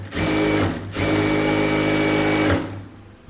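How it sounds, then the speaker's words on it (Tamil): A sewing machine runs in two steady bursts with a brief pause between, loud and close, stitching a folded seam on a 44-size close-neck blouse, no voices. "அப்படியே மடிச்சுட்டு 1 இன்ச்சு கனெக்ட் பண்ணி தையல் போட்டுடலாம்."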